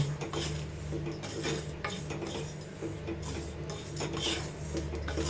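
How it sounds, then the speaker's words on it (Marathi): Jowar flour being stirred into a hot homemade chana masala spice mix, giving a steady scraping and rasping of a spoon against the pan with small metallic clinks, close and continuous with no talk. "आता आपण याच्यामध्ये 1 चमचा ज्वारीचं पीठ टाकणार आहोत आणि थोडंसं असं हलवून घ्यायचंय"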